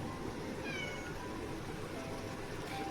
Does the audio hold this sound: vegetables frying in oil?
no